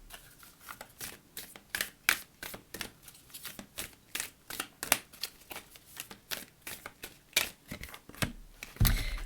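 Oracle cards being shuffled in the hands during a reading, a steady run of quick crisp riffling flicks close up, ending in a louder burst as one card is drawn; no voices.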